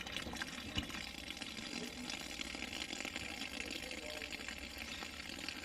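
Water gushing steadily from a tap in a mobile home under strong pressure, a loud, continuous close rush with brief faint voices.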